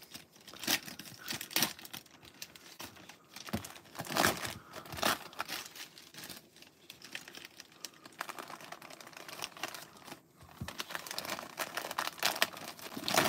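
Wax packs of 1989 Donruss baseball cards being torn open by hand, with repeated close crinkling and ripping of wrapper paper in uneven bursts over a quiet room, no talk.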